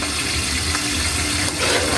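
A glass of water pours into a pan of chopsuey, giving a steady loud rushing splash that runs evenly for about two seconds with a brief surge near the end.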